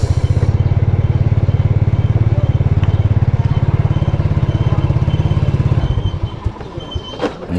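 A motorcycle engine idles with a steady, rapid putter, loud and close, then sputters unevenly and dies away near the end; the engine runs weak at low throttle.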